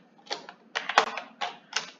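Fingers typing on a computer keyboard at close range, with quick clusters of crisp key clicks coming in about five short bursts separated by brief pauses.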